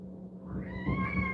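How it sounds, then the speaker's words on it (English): Outside, fighting cats let out a rising, strained caterwaul that swells into a harsh, wavering howl, heard faintly from a distance over a low steady hum. "We got a cat fight outside."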